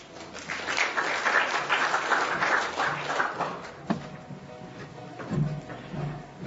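An audience applauds to welcome a speaker at a presentation, a dense patter of many hands clapping steadily before fading out into quieter scattered claps.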